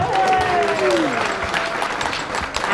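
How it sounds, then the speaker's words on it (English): Applause from an audience after a choral rendition of a hymn at a theatre premiere, steady clapping throughout with a sustained sung or held tone fading at the start. "Give yourself a round of applause."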